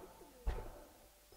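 A giribaz pigeon gives a short, close coo, one throaty burst over quiet background hum.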